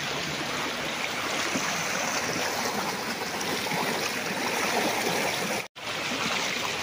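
Steady rushing of a spring-fed stream on a farm lot in Siniloan, Laguna, flowing continuously, broadband and close, with a brief dropout near the end and no voices.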